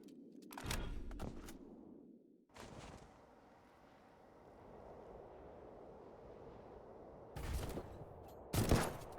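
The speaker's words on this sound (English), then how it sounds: "So this gun goes pow pow pow." Gunfire from a weapon in the video game Dolls Nest, a few sharp bursts of shots at the start and end separated by a low droning lull, fairly quiet overall with no talking.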